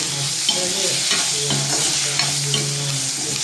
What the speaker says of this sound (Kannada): ಈಗ ಟೊಮೊಟೊ ಕೂಡ ಹಾಕ್ತಾಯಿದ್ದೀನಿ. ಇದನ್ನು ಕೂಡ ಚೆನ್ನಾಗಿ ಫ್ರೈ ಮಾಡ್ಕೋಬೇಕು